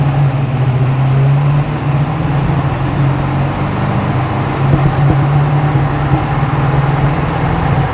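Cabin drone from a 1996 Ford F-250 XLT 4x4 with the 7.3 diesel and automatic on a test drive: a steady, loud, even engine and road hum with no clear rev swells.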